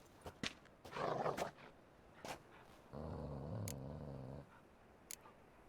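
Dogs in The Witcher 3 video game give a faint, low rumbling growl lasting over a second, set among scattered brief snuffs and thumps in a quiet scene.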